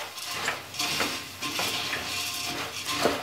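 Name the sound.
stirring puffed rice chivda with salt in a pan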